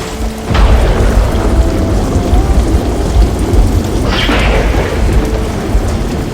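Steady heavy rain with rumbling thunder during a thunderstorm outdoors at a farm workers' lodging in Canada, two sharp cracks breaking through the continuous downpour, fairly close and loud.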